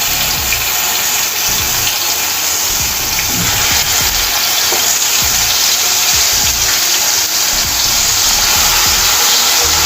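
Mustard seeds and ground green chillies fry in hot oil, giving a loud, steady, broad sizzling hiss with no pauses, and fine crackle running through it.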